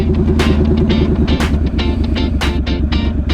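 A Triumph Scrambler 1200 motorcycle engine growls while being ridden, a loud, close, pulsing low rumble with rhythmic throttle bursts and wind rush, recorded with the helmet visor up.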